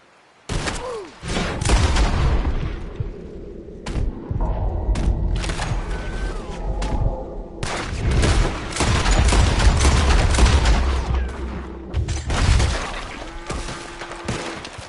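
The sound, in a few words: gunfire shootout from Red Dead Redemption 2 video game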